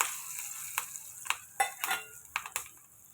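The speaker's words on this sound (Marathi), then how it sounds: "कढीपत्ता घालून याचा तडका तयार करून कढीवर ओतावा थोडासा लसूणही घालावा" Curry leaves, dried red chilli and a little garlic sizzle in hot oil for a tadka, a bright close hiss punctuated by several sharp spattering bursts and clinks of the pan.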